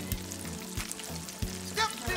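Fish pieces sizzling in hot oil, a close, continuous crackling fry with a few low thumps and a brief bubbling burst.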